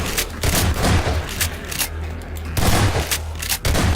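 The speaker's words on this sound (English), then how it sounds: "Right click your shotgun and turn to double barrel mode and does more damage." Double-barrel shotgun mode firing in Garry's Mod on a horror map: several loud, heavy blasts land in irregular succession, with booming low thumps and short gaps between them.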